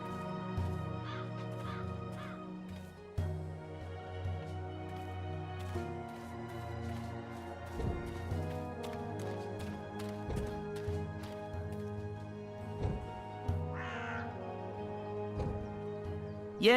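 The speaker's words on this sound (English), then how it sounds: "That filthy, chattering fowl must be over there somewhere." A chattering, crow-like talking bird caws in the video game Dreamfall Chapters, with harsh calls repeating over a dense background of game ambience and scattered hoof-like clopping.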